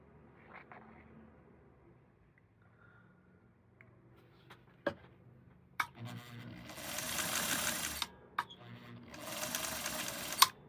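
A Singer 99K sewing machine, freshly oiled, runs in two steady bursts of several seconds each, preceded by a few sharp mechanical clicks and taps from handling the machine, all fairly close and without talk.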